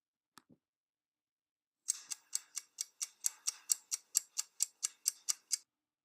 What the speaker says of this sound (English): a ticking noise from a timer later on that we hoped would unsettle our